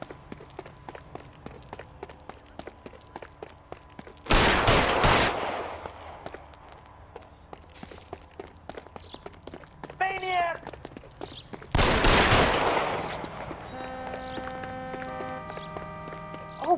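Gunfire in the video game L.A. Noire: two loud, sharp blasts about seven seconds apart ring out over a steady game soundscape with rhythmic ticking and a brief tonal burst between them.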